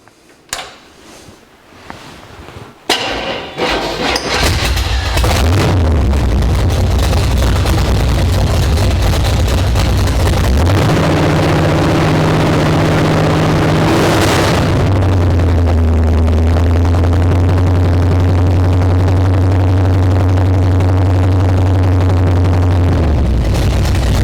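A 1964 Chevrolet C10 pickup's small-block V8 cranks over, catches and roars to life, then settles into a loud, steady rumbling idle with pitch shifts as it revs.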